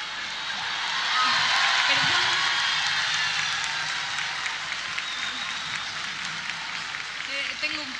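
Crowd applause with cheering for a singer at Festival Patagonia 2018, a dense sustained wash that swells after the first second and holds steady, with scattered voices and shouts mixed in.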